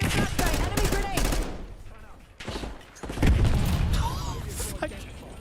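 An enemy grenade blowing up in a video game, heard as a burst of booming, crackling blasts mixed in with other gunfire and game noise, loud and close, with people talking over it.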